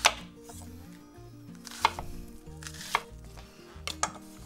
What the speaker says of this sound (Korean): 양파 반개요. 사각으로 잘라주죠.